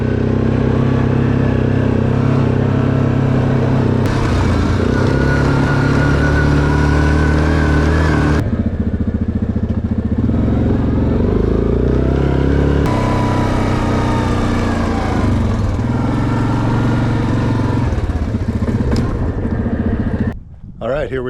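A motorbike engine drones steadily at close range during a trail ride near Marsh Lake in Yukon's Southern Lakes, its pitch shifting with throttle changes and cutting out abruptly at the end.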